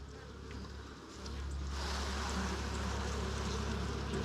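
Honeybees buzzing around a hive frame, a dense steady hum close by that swells a little louder after the first second and holds, with no voices over it.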